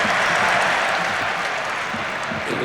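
Stadium crowd at the Beaujoire in Nantes applauding during a Champions League football match against Manchester United, a broad steady wash of clapping from a large distant crowd with little else audible.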